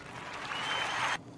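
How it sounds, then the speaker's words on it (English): A crowd applauds and cheers at a pub or bar in Surfers Paradise, heard as a short, faint wash of clapping that ends abruptly. "Crowd applause."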